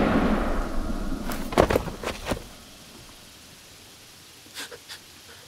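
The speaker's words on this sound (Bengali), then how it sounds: "আমার পারমিশন ছাড়া গুলি চালালে কেন?" Gunfire sound effects in a Bengali horror audio drama: a cluster of four or five sharp, loud cracks in quick succession, then a quieter pause and a second short burst of two or three shots.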